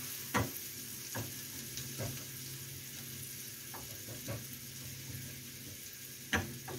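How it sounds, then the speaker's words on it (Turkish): Onions turning golden in a frying pan, a steady low sizzle broken by scraping stirs at irregular intervals, close and moderately quiet, with no talking. "Şöyle çok güzel sararmaya başladı soğanlarımız."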